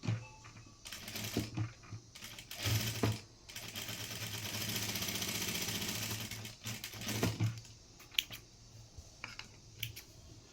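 A sewing machine stitches a fabric mask insert piece in short whirring bursts, with one longer continuous run in the middle and some clicks and handling sounds around it.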